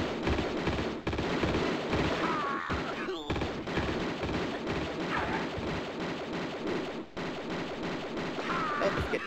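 Continuous heavy gunfire from armed enemies in Tomb Raider 2, dense rapid shots layered with booming impacts and game music, running almost without pause with a couple of brief gaps.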